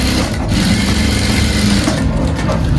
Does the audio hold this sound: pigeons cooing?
no